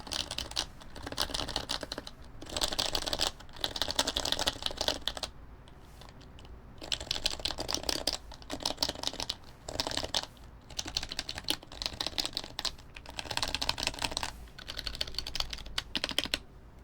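Keys on an HHKB Pro Hybrid keyboard are pressed down to bottom out in quick bursts of clacking, close and loud, separated by brief pauses, with no talk.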